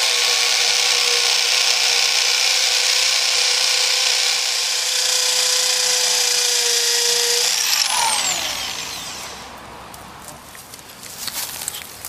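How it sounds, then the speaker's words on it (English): A loud, steady half-inch rotary hammer drill whine runs continuously for most of the clip while drilling concrete, then winds down, leaving quieter scraping and handling noises. "Using a half inch concrete rotor hammer drill, drill those marks out"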